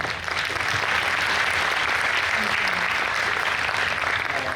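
Sustained applause from a theatre-talk audience at a university literature festival, dense, steady clapping that fills the room evenly for several seconds with no speech over it.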